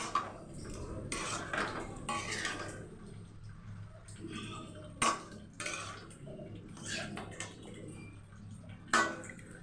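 Young jackfruit being stir-fried in a pan, with a spatula scraping and clanking against the metal in irregular bursts over a low background hum, several sharp knocks standing out.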